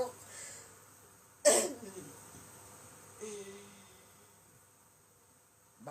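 A woman gives one sharp, close cough, then a second softer cough a couple of seconds later, against a quiet indoor background.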